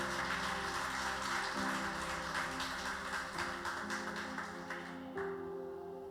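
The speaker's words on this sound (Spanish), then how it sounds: "Demuéstrelo con un aplauso." A church congregation breaks into sustained applause that fills the room steadily for several seconds over held keyboard tones, fading slightly near the end.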